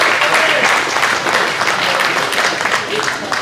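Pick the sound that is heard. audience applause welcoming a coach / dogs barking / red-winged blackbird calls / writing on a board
audience applause welcoming a coach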